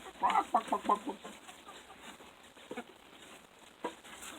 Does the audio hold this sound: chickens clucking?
yes